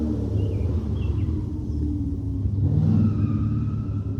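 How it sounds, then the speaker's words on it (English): Low engine rumble from a motorcycle, steady and fairly loud throughout, swelling slightly toward the end as it passes nearby, with no other sounds on top. "This motorcycle is so rude."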